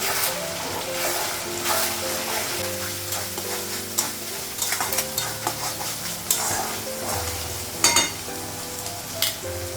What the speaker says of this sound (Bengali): ধনে গুঁড়ো লাগাবো লবণ দেবো মশলাটা একটু ভেজে নেব